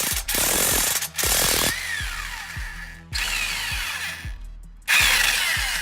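An impact wrench rattles in several loud, close bursts on a suspension nut of a 2005–2014 Ford Mustang GT during a lowering spring and coilover install, with short pauses between each hammering run.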